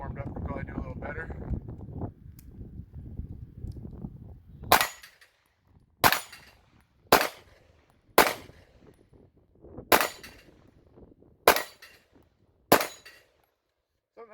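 Springfield Prodigy 9mm pistol firing seven sharp, loud shots spaced about a second apart outdoors, each with a short echoing tail, following a stretch of wind-buffeted background noise.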